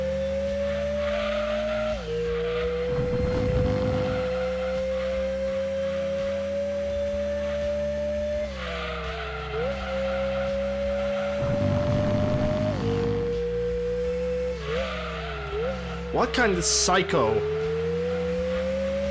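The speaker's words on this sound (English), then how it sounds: "who thought that this muffler sound is actually a good sound for the car?" Car engine and muffler exhaust drone in the PS1 racing game Gran Turismo 2, a steady rising tone that shifts with gear changes, with brief tire squeals, running under a voice.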